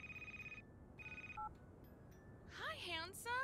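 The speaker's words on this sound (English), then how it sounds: "Oh yay, my phone's ringing." An electronic phone ringtone in the video game Crimson Snow plays two clear repeated beeping bursts, then a short double tone, before a voice starts talking over it.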